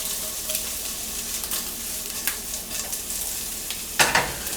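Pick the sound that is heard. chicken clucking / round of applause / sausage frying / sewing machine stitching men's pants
sausage frying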